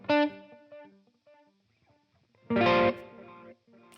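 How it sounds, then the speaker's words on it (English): Guitar notes run through a Softube tape echo delay, with plucked chords followed by repeating echoes that fade out, a second strummed burst, then trailing repeats, no voices. "next thing I'm adding, of course, my trustworthy tape echoes from Softtube also"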